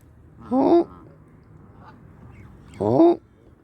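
Two loud, nasal honks from a goose nearby, spaced a couple of seconds apart, with quiet outdoor background between.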